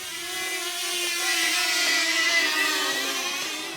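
A DJI Flip drone's high-pitched propeller whine hums steadily close by, its harmonic tones shifting slightly in pitch as it hovers and follows, with no talking.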